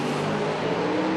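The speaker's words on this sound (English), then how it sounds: "Wow, both cars going straight down Broadway." Nitrous-fed drag race cars roar as they accelerate side by side down Broadway, a loud, continuous engine drone that holds steady through the short burst, with no talking.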